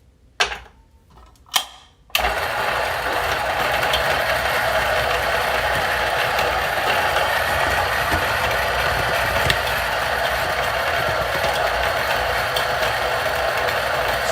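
A Niche Zero coffee grinder set to grind size 11 whirs steadily and loudly after a couple of brief clicks, holding an even mechanical drone for about twelve seconds.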